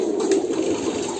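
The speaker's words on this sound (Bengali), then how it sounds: "এখানে 200+ কবুতর এখন একসাথে গোসল করতেছে।" Pigeons at a pigeon farm, some two hundred bathing together, give a low, throaty cooing murmur that stays close and steady over a brief moment, with a faint splash or flutter in the background.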